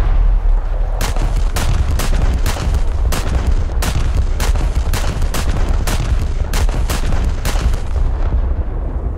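Main guns of an Italian battleship firing in the War Thunder video game, a steady rapid series of about fifteen loud booming shots over a constant heavy low rumble.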